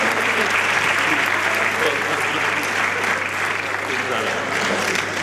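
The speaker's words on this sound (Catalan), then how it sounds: "Un fort aplaudiment per les 4 mans innocents." At a benefit arts performance in Sabadell for La Bressola, a crowd gives sustained applause for the performers, many hands clapping in a thick, even roar that holds steady throughout.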